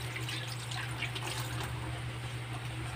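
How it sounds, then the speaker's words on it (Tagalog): Water runs steadily from a tap while dishes are washed, a continuous close trickle and splash with a low hum beneath. "Maghugas muna ako."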